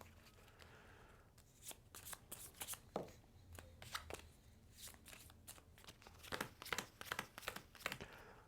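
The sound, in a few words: drawing playing cards from deck, board game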